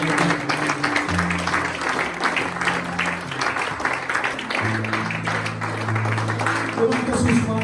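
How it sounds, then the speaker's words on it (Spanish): A church congregation applauds during worship, with clapping running under sustained organ or keyboard chords and a voice speaking over the music. "Dele ese fuerte aplauso a la gloria de Dios."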